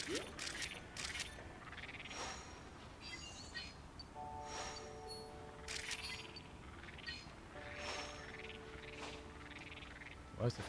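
Toads croaking in the video game New Pokémon Snap, repeated short croaks in a cave setting, alongside clicking camera shutter sounds and soft game ambience.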